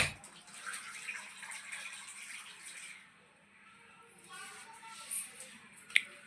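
Water pours from a cup into an electric cooker holding biryani, a soft splashing trickle close by that stops midway, followed by faint clinks and a brief second pour, with quiet room noise and no clear speech.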